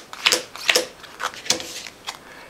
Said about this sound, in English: So you're going to shuffle that deck.